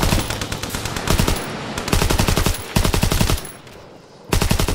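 Enemy strafing run in Call of Duty WWII: loud, rapid machine-gun bursts rattling in several separate volleys with short gaps between them, close and dominant.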